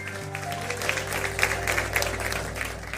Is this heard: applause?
yes